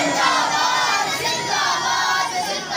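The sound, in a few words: crowd chanting religious slogan Tajdar-e-Khatm-e-Nabuwwat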